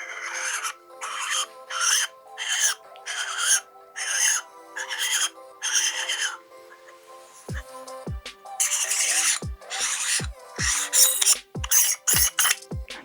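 An accessory for a Sony RX100 compact camera is unscrewed at close range, making about a dozen rhythmic, rasping squeaks in quick strokes. Sharp little clicks mix in with the later strokes.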